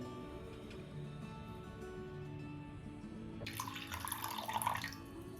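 Water pours into a cooker of raw chana dal in a splashing burst that starts partway through and grows louder, after a stretch of quiet kitchen background.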